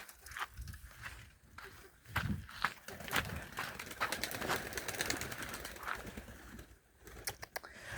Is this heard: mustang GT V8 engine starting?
no